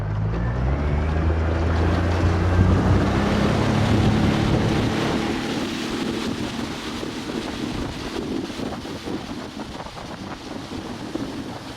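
Boat motoring through icy water past floating ice chunks, a loud steady engine rumble mixed with wind buffeting the microphone and water rushing along the hull, the low drone easing off after a few seconds.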